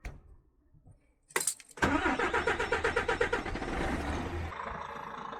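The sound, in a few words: DAF CF truck engine starting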